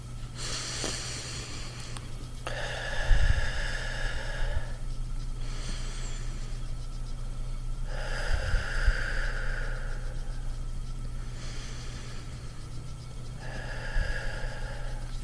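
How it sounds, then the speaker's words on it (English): Three slow, deep breaths taken one after another during a calming meditation routine, each a soft, airy rush of a couple of seconds separated by quiet pauses, close and steady with no talking. "I take these deep breaths to get me into a calm space"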